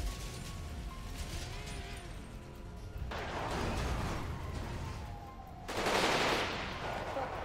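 Bursts of gunfire in a police-versus-families shootout video game, with heavy broadband blasts that swell and fade in several waves, mixed with faint voices underneath.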